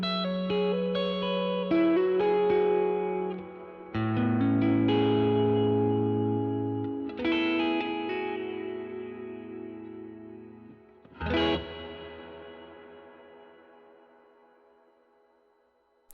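Electric guitar notes and chords washed in lush hall-style reverb from a Meris Mercury X pedal emulating the Mood MkII, each strum blooming and trailing off slowly, ending with a final hit that fades into a long, quiet tail.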